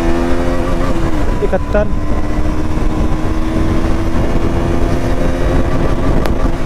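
KTM RC motorcycle accelerating hard through its gears, a loud, steady engine drone that dips briefly at a shift and climbs again, with wind rush and a voice speaking over it.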